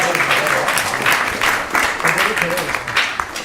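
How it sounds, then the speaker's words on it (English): Audience applause at a Hare Krishna Sunday feast in a temple hall, steady dense clapping throughout, fairly loud, with crowd noise mixed in. "Please give them a big round of applause for sponsoring today's Sunday feast."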